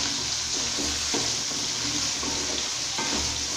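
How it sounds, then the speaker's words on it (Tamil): Brinjal (eggplant) pieces frying in oil for a Tamil ennai kathirikai varuval, a constant close sizzle with repeated scraping strokes as the pieces are stirred. "இந்த மாதிரி கொஞ்சம் கை விடாம நம்ம காயை நல்லா வதக்கிக்கலாம்"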